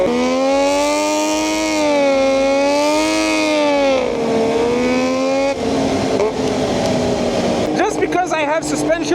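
A 140-horsepower sleeper ATV engine runs loud and close, its droning tone rising and falling as it revs, turning rougher and more ragged toward the end.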